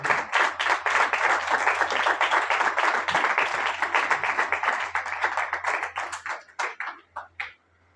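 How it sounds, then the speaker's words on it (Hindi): A church congregation claps loudly in unison, fast rhythmic beats for about six seconds that thin out into a few scattered final claps, with a low hum underneath. "जिंदा खुदा के लिए एक दफा जोरदार तालियां सब बजाएं।"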